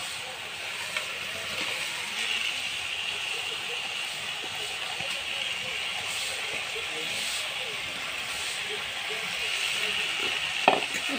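Fish fries in hot oil in a pan for a home-style Assamese fish dish, giving a loud, steady sizzle and hiss at close range with a few faint stirring knocks.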